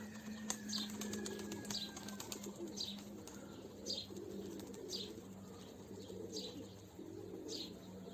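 A pigeon flaps its wings in flight, making repeated soft clapping bursts at a steady pace against a faint outdoor background, with birds chirping nearby.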